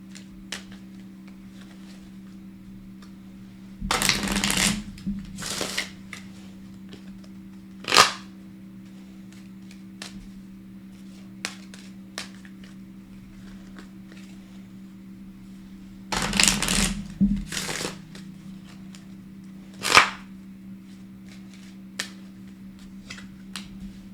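Oracle cards being shuffled, short papery riffles in two clusters with sharp snapping taps between them, close by over a low steady hum, and otherwise quiet.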